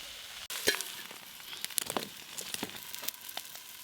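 Freshly washed sushni greens are stirred in a hot pan, crackling and sizzling with crisp, scraping rustles as a spatula turns them, close up and without speech.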